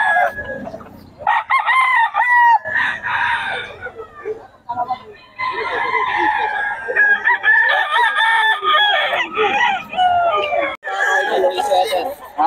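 Chickens and roosters at a market in Bocaue crow and cluck loudly and up close, with several overlapping crows stretched across the whole stretch and people talking among the birds.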